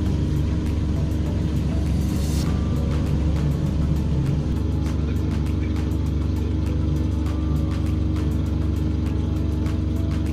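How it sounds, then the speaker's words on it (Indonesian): A city bus pulls up to a stop on a street in Belarus, its steady low engine rumble filling the scene with traffic noise, plus a brief hiss near the start. "Tuh bisnya udah datang."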